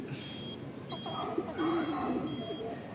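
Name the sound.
racing pigeons cooing in a loft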